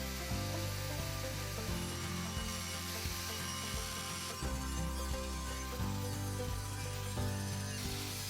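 A saw cuts through the top of a table saw blade guide on site, a dense, continuous mechanical grinding and rattling that fills the whole stretch at close range with no talk.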